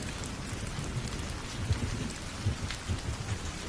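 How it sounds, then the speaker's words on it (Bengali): Heavy rain pours down in a cartoon storm scene, a dense, constant hiss of large drops with low rumbles of thunder rolling underneath. "বড় বড় ফোঁটায় মুষলধারে বৃষ্টি হচ্ছে।"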